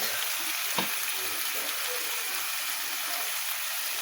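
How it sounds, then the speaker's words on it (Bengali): Spice mix of chili powder and turmeric frying in a pan with steady hissing sizzle, one soft stirring knock early, close and continuous. "মশলাটা এবার নাড়াচাড়া ভালো করে নাড়াচাড়া করে ভেজে নিতে হবে"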